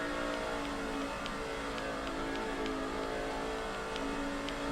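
Race car engines in NASCAR 06 drone steadily in a dense, continuous field-wide roar with a sustained mid-pitched hum, no talk over them.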